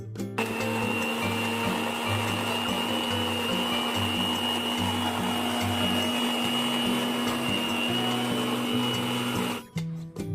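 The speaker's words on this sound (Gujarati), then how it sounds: "આપણે એમાં થોડું અંદર પાણી રેડી અને ક્રશ કરીશું પાણી નહીં રેડીએ તો ક્રશ જલ્દી નહીં થાય અને મિક્સરને લોડ આવશે" A kitchen mixer grinder crushes amla (Indian gooseberry) with water in a loud, steady motor whine and churning rattle. It runs without a break for about ten seconds, then cuts out abruptly.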